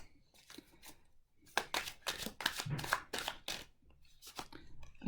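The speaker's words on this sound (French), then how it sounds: "On va tirer 3 cartes pour se positionner par rapport à ça." Three tarot cards drawn from a deck and laid down, making papery rustles, slides and snaps in close bursts of fairly loud card handling.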